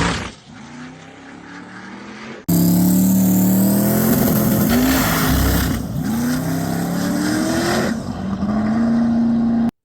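A Chevy Nova no-prep drag car makes a test pass: after a quieter idle, the engine bursts into a loud, sustained wide-open roar with rising harmonic sweeps as it accelerates, dipping briefly between gear changes, with no talking.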